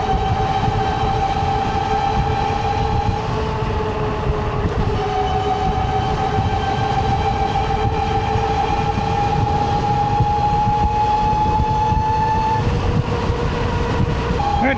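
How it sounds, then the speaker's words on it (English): A steady high-pitched electric motor whine from a 72-volt e-bike at about 30 mph holds at a constant pitch over continuous road and wind rumble, loud and close throughout. "Motor's loud though, guys."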